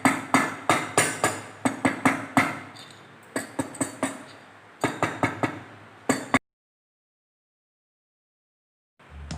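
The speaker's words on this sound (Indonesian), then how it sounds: "Kita palu menggunakan palu karet," Rubber mallet striking a motorcycle engine part during engine assembly, a run of about fifteen sharp, close knocks in irregular bursts, then silence with a faint low thump at the end.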